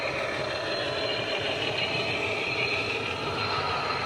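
A train at a railroad museum approaches with a steady, continuous rumble and rolling hum that holds at a constant level throughout, heard from some distance with no voices.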